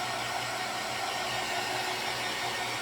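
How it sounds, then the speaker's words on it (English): A handheld hair dryer being moved around while drying a non-slip rubber rug mat for a lantern craft, a steady, loud broadband whoosh with a low motor hum running continuously throughout. "I'm just trying to move my dryer around so I won't get it too hot."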